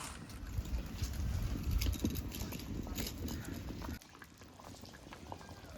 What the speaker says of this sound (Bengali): এবার তরকারিটা একটু ফুটতে থাকবে।